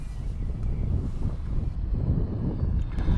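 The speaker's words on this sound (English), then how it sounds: "It is quite windy." Steady low rumbling wind of 8 to 10 miles per hour buffets the microphone during a camera drone's test flight, a continuous gusty roar with no voices.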